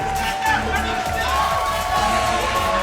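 Wrestling crowd at the Race Wrestling Arena during a World League Wrestling and National Wrestling Alliance event, a steady roar of cheering and babble filling the hall with no lull, loud and close throughout.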